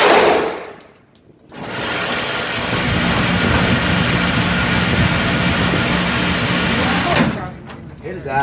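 Gunfire from a red-dot-equipped gun at a shooting range, a loud sustained burst of shots lasting several seconds after a brief pause, with voices nearby.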